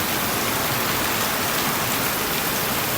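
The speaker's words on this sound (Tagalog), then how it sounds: "Napakalakas na ulan." Heavy rain pours down in a dense, constant hiss, loud and close, with no other sounds above it.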